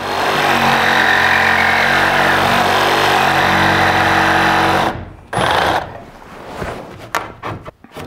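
A power drill grinds continuously while boring a hole during bathroom tub work, then stops and is followed by a few scattered knocks and handling clatter, close by.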